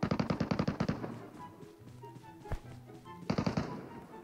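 Automatic gunfire in PUBG Metro Royale rattles in two rapid bursts of close, sharp shots, separated by a quieter stretch with a single crack, loud and dry.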